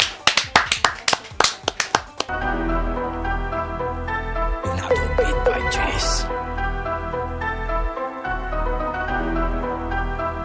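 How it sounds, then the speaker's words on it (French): Sharp hand claps from an audience at a Chadian afro-trap music promo event ring out in a quick, evenly spaced run at the start, then give way to loud, steady music. "Est-ce qu'on peut l'applaudir?"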